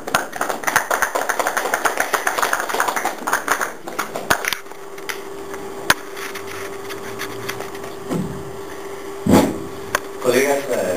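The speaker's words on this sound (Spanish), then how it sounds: "recibamos con un caluroso voto de aplauso" Audience at a College of Engineers event applauds a speaker, a dense clatter of clapping that fades after a few seconds into a quiet room with scattered taps and knocks.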